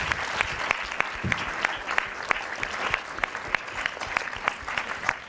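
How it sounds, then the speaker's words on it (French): An audience at a public science lecture on dark matter claps warmly and steadily for several seconds, with crisp individual claps standing out from the dense applause. "On peut applaudir Nathalie Palanque, s'il vous plaît"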